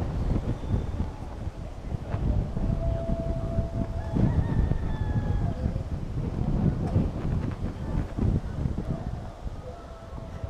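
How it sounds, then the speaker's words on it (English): Strong wind buffets the microphone outdoors on the Key West waterfront, a steady low roar with gusts, joined by a few faint distant tonal horn-like calls. "It's quite windy here."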